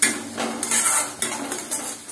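Ginger garlic paste and green chilies frying in a pan, with quick metallic spatula scrapes and clinks against the pan over a soft sizzle, several strokes in a short burst, no voices.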